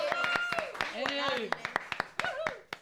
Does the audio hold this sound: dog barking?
no